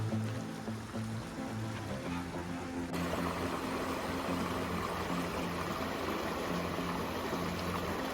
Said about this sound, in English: hearing nothing but the river drowning out the sounds of the highway